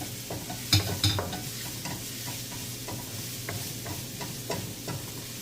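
Snails stir-fried with garlic in a pan, a soft steady sizzle broken by sharp clicks and scrapes of the utensil against the pan.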